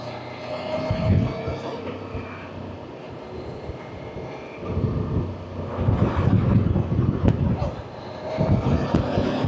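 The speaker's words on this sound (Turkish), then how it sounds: "Rüzgar var ya." Steady gusting wind buffets the microphone in loud, rumbling waves, rising and falling over a low background drone, with voices faintly underneath, at a go-kart race.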